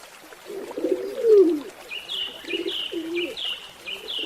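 Dove cooing nearby, a low throaty coo followed by a run of repeated soft calls with higher chirping notes overlapping, with no voices present.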